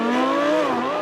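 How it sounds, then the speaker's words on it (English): A Lamborghini Huracán's normally aspirated 5.2-litre V10 engine drones loudly and steadily at high revs, its pitch dipping slightly midway, with a smooth whining tone. "when the revs drop down to tick over, on the inside it does sound a bit like a sewing machine."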